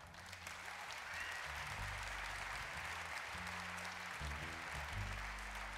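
At a 2019 tech conference keynote, the audience applauds the bass players in a steady, moderately distant wash of clapping, with low humming tones from the venue's sound system running underneath.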